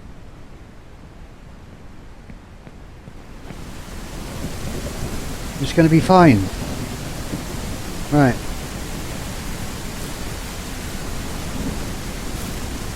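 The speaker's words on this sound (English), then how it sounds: "I'm not going to be able to do much now with this rain." Steady rain and rumbling thunder from the video game Ranch Simulator, a continuous wash of downpour that swells after a few seconds, with brief spoken remarks over it.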